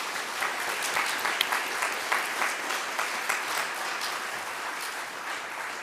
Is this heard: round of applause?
yes